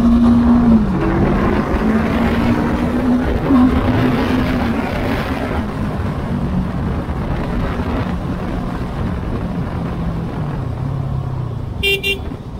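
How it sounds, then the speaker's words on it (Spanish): A Voge 500R motorcycle accelerates at speed, its engine tone climbing and shifting under a steady roar of wind and road noise, close and continuous, with a brief horn-like toot near the end. "ahí vamos con aceleración, con velocidad, para que sientan un poco"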